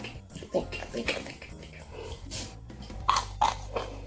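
Close, crisp crunching and biting as someone chews stale, crunchy chunks of cornstarch, with irregular bites and soft mouth noises under quiet background.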